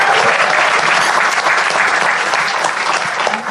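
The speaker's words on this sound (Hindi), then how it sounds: "एक बार जोरदार तालियां गार्गी जी के लिए यार." Dense, loud applause from a live comedy show audience fills the room steadily and without pause, many hands clapping at once.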